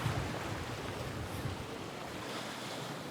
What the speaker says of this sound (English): we're getting some quite spectacular waves coming in now